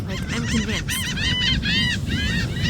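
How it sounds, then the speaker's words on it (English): Seagulls on the Ocean City, Maryland boardwalk give a loud, close run of repeated cackling calls that sound like laughter, with a person briefly speaking beneath them. "I love how seagulls always seem to think that they tell the best jokes."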